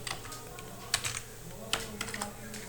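Quiet, quick keystrokes on a computer keyboard tap out a file name in a short irregular run, close and soft with faint background hiss.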